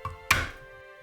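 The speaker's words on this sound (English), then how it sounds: "Crush the garlic cloves" A single sharp thud of a knife blade pressed down to crush garlic cloves on a cutting board, close and clear, with a faint tap just before it.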